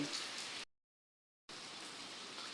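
Heavy rain pours onto a flooded street in the Sathorn district of Bangkok, a steady, faint broadband hiss that cuts out completely for a moment before resuming just as evenly.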